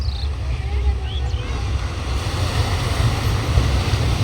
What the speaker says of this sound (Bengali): সমুদ্রের এই গর্জনটি সবাই একটু শুনুন